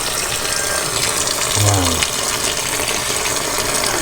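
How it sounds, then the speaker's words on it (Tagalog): Water gushes steadily into a container to rinse freshly caught fish, a continuous pouring rush close to the microphone, with a person briefly exclaiming partway through. "Tutubigan po natin. Ayan, malinis na po yan."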